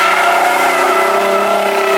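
A Lexus IS350 engine revs hard as the car accelerates, giving a loud, steady, close-up roar that keeps building throughout, with no talking.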